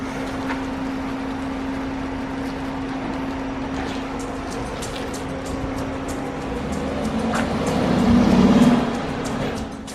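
A Dodge Durango RT with a 5.7 HEMI V8 pulls away, its engine droning steadily close by and then swelling louder as it accelerates off.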